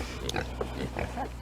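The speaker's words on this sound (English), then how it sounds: "Still have our pigs back here." Pigs on a homestead, a female pig and one called Peanut, grunt in several short, low snorts close by over a soft background hum.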